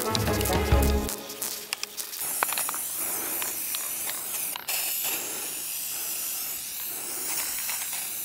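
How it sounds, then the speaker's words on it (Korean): Waterproofing spray from an aerosol can hisses onto stone in several short bursts, then settles into a steady, close spraying hiss. "이게 지금 스프레이가 투명색이라서 지금 색깔이 안 보이기 때문에 뭐 덜 칠한 것처럼 보일 수는 있겠지만은 엄청 뿌렸습니다"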